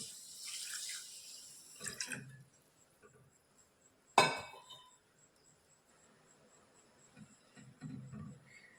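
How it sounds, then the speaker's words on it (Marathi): About 650 ml of measured water poured onto sugar in a pan for gulab jamun syrup, a brief splashing pour near the start and a sharp knock in the middle, then quiet with a faint background hum. "आता हे पाणी आपण ह्या साखरेत टाकून घेणार आहे"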